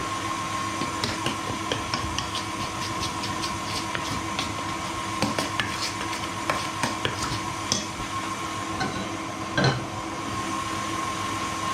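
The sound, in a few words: stirring mixture in pan to remove lumps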